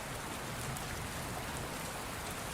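Gentle drizzle falls in a soft, even hiss of rain that stays faint and unbroken from start to finish, with no voices.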